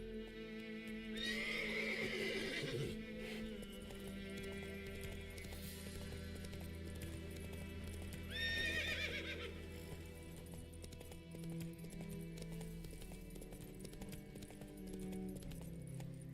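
A horse in The Witcher 3 trots with steady clip-clop hoofbeats throughout, neighing loudly twice in long whinnies, over a low ambient rumble with no talking.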